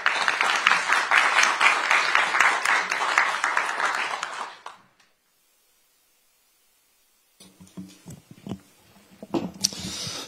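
An audience at a Korean Democratic Party event claps loudly in dense, sustained applause to welcome the party leader, then the applause cuts to silence before scattered quieter sounds follow.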